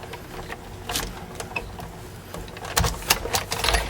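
A die cutting machine cranks a card through in a folder while crafting a shaker card, producing a close grinding, rolling mechanical rattle with louder crunches toward the end.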